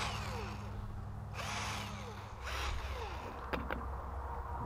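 A power drill countersinks drywall screws, making a close whirring drone with short spinning bursts and a couple of sharp clicks near the end.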